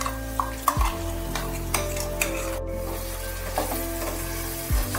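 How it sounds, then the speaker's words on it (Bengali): A spatula stirs ground poppy-and-sesame spice paste through vegetables in a pan, with close scraping and clinking strokes over a steady low sizzle and a continuous background hum. "বেটে রাখা মশলা দিয়ে দেওয়ার পর বেশ ভালো করে মশলাটা সবজির সাথে মিশিয়ে নিতে হবে"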